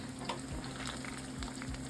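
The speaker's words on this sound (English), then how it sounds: "So we're just frying these plantain up." Plantain pieces fry in a pan for Jamaican fried plantains, giving a soft, steady sizzle with small crackles and a few light scrapes, fairly quiet and without voices.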